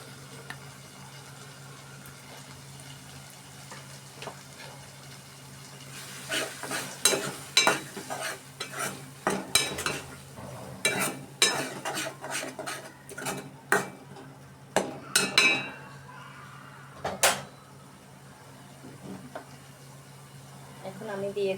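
Chopped tomato going into a pigeon curry, a spoon scraping and stirring in the pan with irregular clinks over a soft sizzle, close and fairly loud, while someone talks.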